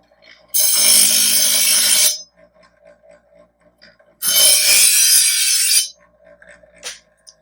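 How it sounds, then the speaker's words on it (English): A knife is drawn through a Presto Eversharp sharpener's finer grain slot in two loud, gritty rasping strokes of about one and a half seconds each, separated by a quiet pause with faint clinks. "Then go with the smaller grain sharpener."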